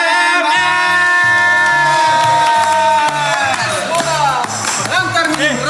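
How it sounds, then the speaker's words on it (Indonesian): A crowd cheers and shouts to welcome a well-known musician on stage at a live show, the voices rising together over loud, steady band music with a deep bass line that plays throughout. "Kita sambut dengan tepuk tangan paling meriahnya"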